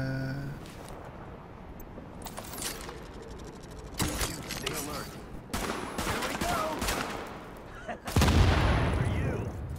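Gunfire in The Division in a New York City setting: bursts of shots and heavy booming blasts come in clusters, with a loud close boom near the end, against a busy game backdrop.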